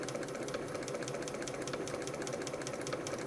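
A Bernina 930 Record Electronic sewing machine runs and stitches, its needle bar now and then dropping back for a single stitch. It makes an even mechanical hum with quick regular ticking, close and moderately quiet, with no voices.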